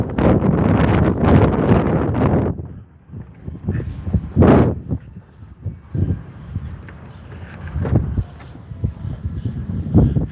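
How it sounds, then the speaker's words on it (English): Strong wind buffets a microphone outdoors, a loud roaring rush for the first few seconds that then turns gusty and uneven, with bursts of rustling and a voice speaking faintly under the noise. "Hair blowing in the wind."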